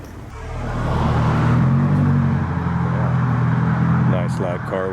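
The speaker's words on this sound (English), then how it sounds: "Nice loud car went by." A loud car drives past on a main street in Carson City, Nevada, its engine rumble swelling and then fading over several seconds, with a voice talking near the end.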